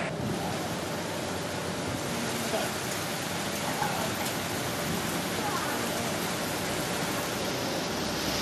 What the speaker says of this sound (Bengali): সকাল থেকেই বৃষ্টি, নাগারে বৃষ্টি পশ্চিম মেদিনীপুরে